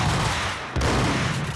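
Dense, continuous gunfire in Max Payne 3, a loud, close barrage of overlapping shots that runs with only a brief dip, and no voices.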